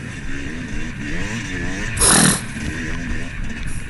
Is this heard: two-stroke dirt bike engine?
yes